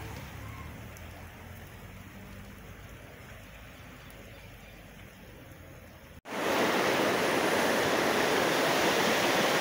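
Floodwater rushes at the entrance to Porto da Folha beside a flooded building-supply store: a steady broadband roar that jumps abruptly much louder and closer about two-thirds of the way through, with no talking.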